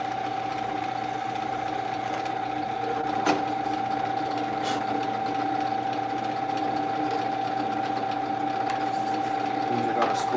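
A drill boring screw holes through knife handle material in a knife-making shop, a steady whirring machine tone running continuously with a couple of brief sharper clicks, close and fairly loud.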